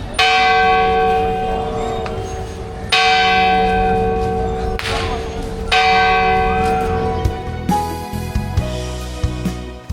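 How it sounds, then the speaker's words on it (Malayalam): Church bells at the Velankanni church ring out at noon, loud, full-bodied strikes repeating and overlapping with long ringing decay, with no other sounds over them. "ഈ പള്ളിയിൽ കൃത്യം 12 മണിക്ക് പള്ളിമണി മുഴങ്ങും"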